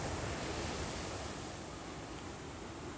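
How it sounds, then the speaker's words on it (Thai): Ocean waves break on a sandy beach on a sunny day, a continuous, even wash of surf heard at moderate distance, with no voices and no distinct individual crashes. "สำหรับคลิปนี้ฟังเสียงคลื่น ซัดฝั่ง"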